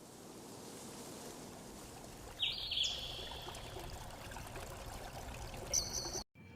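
Water pours into a pressure cooker holding black masoor lentils and chopped vegetables, a steady trickling splash near the mic that swells briefly and then settles into a continuous flowing hiss.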